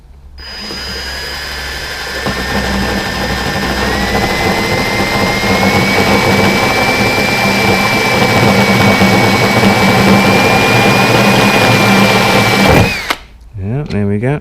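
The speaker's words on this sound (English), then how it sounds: "it stops the spot weld drill bit wandering, gives it a center point" A spot weld drill bit drilling out a weld on a Ford Transit panel, a loud, steady high-pitched whine with a slowly rising pitch for about eleven seconds, then stopping abruptly.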